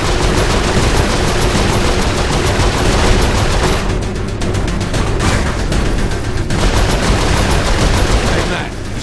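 Rapid, sustained turret gunfire in Saints Row 4, a dense loud stream of shots across the whole stretch with brief slight dips, and a voice faintly mixed in beneath.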